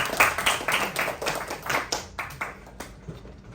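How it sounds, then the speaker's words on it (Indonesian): A classroom audience claps for a student named Azam during a lesson, with bursts of hand claps close by that thin out and fade over a few seconds. "kita beri tepuk tangan untuk Azam"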